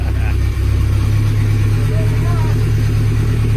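Honda K24 engine swapped into a Pontiac Fiero GT fires up and settles into a steady, loud running drone close by, with people talking over it.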